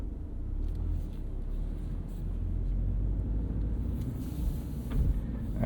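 Inside a Subaru BRZ on Bridgestone Potenza Sport all-season tires on a wet track, a steady low engine and road rumble drones evenly throughout without speech.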